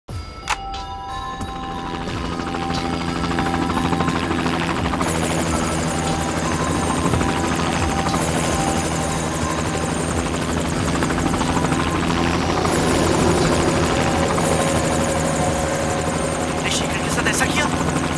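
Loud, continuous helicopter rotor and engine drone from inside the cabin, steady throughout with a faint tonal whine on top.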